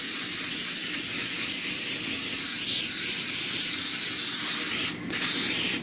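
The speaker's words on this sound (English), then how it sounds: "So I'm going to spray the cooking sheet." Cooking spray hisses onto a baking sheet while scones are prepared, a loud continuous spray lasting several seconds with a short pause and a final brief burst.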